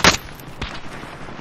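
A sharp gunshot burst in Call of Duty Warzone opens, followed by a second softer shot and faint distant crackle, with no talking.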